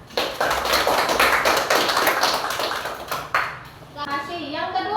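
Fourth-grade schoolchildren in an Indonesian classroom clap for their classmates, a dense burst of many small hands for about three seconds that then fades, with a voice and a high ringing tone following at the end.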